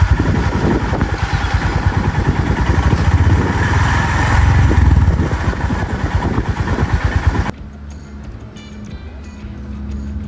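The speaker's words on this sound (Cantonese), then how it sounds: "大家可以一齊欣賞下佢嘅引擎發動聲。" A Honda GB350S single-cylinder motorcycle engine ticking over close up, a loud rhythmic low thump for several seconds that then drops abruptly to a quieter background where the beat continues more faintly.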